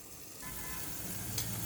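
Rava-coated prawns shallow-fry in oil in a covered pan over a low flame, a soft sizzle swelling up after a brief quiet start and then holding steady and close.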